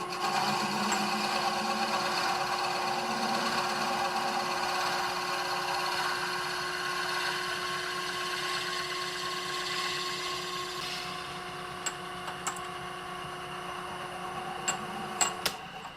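A drill steadily bores a 2 cm deep hole into a wooden chisel handle, a continuous close whir holding an even pitch, then stopping with a few sharp clicks near the end.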